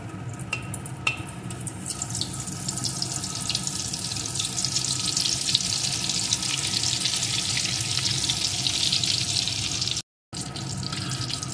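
Butter sizzles as it goes into hot white oil in a wok. A dense, continuous hiss and crackle runs nearly unbroken, with a brief silent gap near the end.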